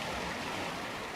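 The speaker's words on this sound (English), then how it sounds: "Listening to the waves crashing" Waves crashing onto a shore, heard as a continuous, dense wash of surf noise, steady and moderately loud throughout without any voices.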